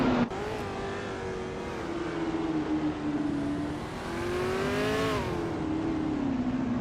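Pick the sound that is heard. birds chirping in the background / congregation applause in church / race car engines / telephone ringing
race car engines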